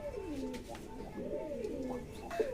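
Pigeons in a loft give soft, repeated cooing calls, with a nesting female settled on an earthen bowl. The coos come close and steady, rising and falling in a continuous murmur.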